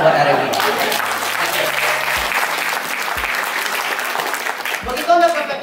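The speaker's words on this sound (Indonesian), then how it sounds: "Kasih tepuk tangan buat R&D." Seminar attendees at an Indonesian sales training session break into loud, continuous applause, dense and close, with a few voices mixed in as it carries on.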